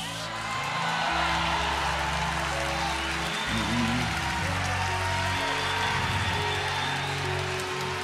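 A church congregation at a Brazilian conference applauding, steady massed clapping and cheering filling the room at moderate level under faint organ-like musical tones.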